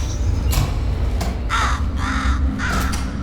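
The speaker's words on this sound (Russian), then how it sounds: "Ворона." Crow cawing in the video game Portal Stories: Mel, several harsh caws in quick succession, loud and near over a low ambient hum, with no talk.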